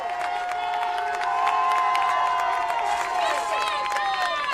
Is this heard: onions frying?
no